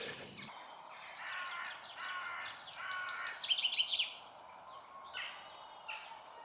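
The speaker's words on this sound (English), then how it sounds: "Oh, is that crows?" Harsh cawing calls, apparently from crows, come in several short bursts at moderate distance around a quiet Scottish village, with no talking.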